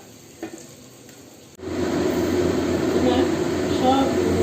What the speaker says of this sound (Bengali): এরকম ধীরে ধীরে লো ফ্লেম করে, লো টু মিডিয়াম ফ্লেম করে এগুলোকে ভেজে দিতে হবে।